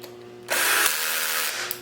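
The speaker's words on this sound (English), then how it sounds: "I'll tighten those up by hand." Nuts tightened by hand on a rebuilt Dynaco Mark III tube monoblock amplifier, giving a close, steady metallic rasping and grinding for over a second after a short quiet start, with a faint low hum running underneath.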